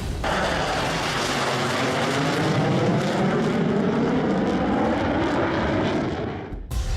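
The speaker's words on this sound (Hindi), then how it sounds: "ये भी एक साथ टरमैक पर टहलते हुए निकलते हैं और फिर F-16 की उड़ान भी शुरू हो जाती है" An F-16 fighter jet taking off from a tarmac, a loud, steady, broadband engine roar that fills the whole span and holds near constant before cutting off at the end.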